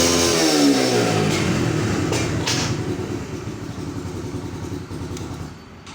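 A motorcycle engine revs hard close by, then the rising whine eases off into a lower, rough running note that fades out near the end, with no voices.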